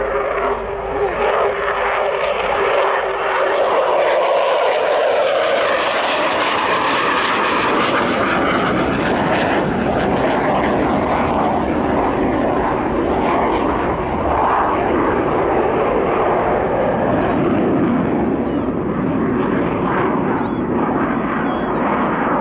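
An upgraded military jet flying a display at the RIAT airshow: a loud, sustained engine roar that swells and shifts as the aircraft passes, steady throughout with no talk over it.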